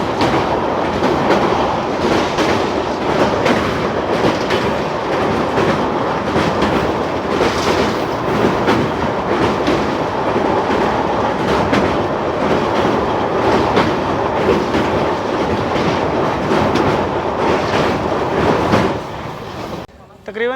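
The Seer Govardhanpur Varanasi Express runs near Ludhiana, passing the Sutlej river. A loud, continuous rumble with rhythmic clickety-clack of wheels over rail joints fills the whole stretch from inside the moving train, and dips slightly at the very end.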